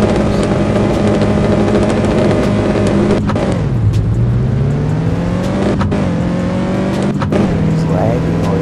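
A drag racing car in the No Limit Drag Racing video game doing a rolling burnout, its engine droning loud and constant with pitch swooping down and back up through gear-like shifts, with a voice talking over it.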